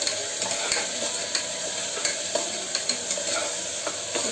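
Mint leaves frying in a pan for egg biryani, a loud continuous sizzle broken by regular clicks and scrapes of stirring, close up and without talk.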